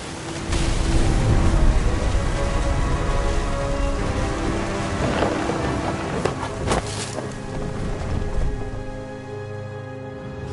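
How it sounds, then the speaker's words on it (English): A thunderstorm in the video game What Remains of Edith Finch brings steady rain with a deep low rumble and occasional sharp crackles, fading toward the end. "The thunder sounded much too close and full of angry power."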